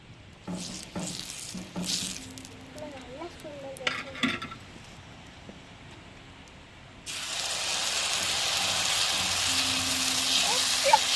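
Dosa batter frying on a hot stove: after some clinks and scraping of a pan, a loud steady sizzle starts and continues to the end.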